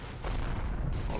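Howitzer artillery fire in the Combat Mission: Battle for Normandy wargame, a dense, rumbling volley of heavy booms rolling together at moderate distance with no clear gaps.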